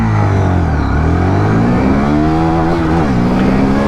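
A 160cc four-valve motorcycle, a 2024 Hero Xtreme 160R 4V or TVS Apache RTR 160 4V, accelerates hard from a standstill, its loud close engine note climbing steadily through the revs.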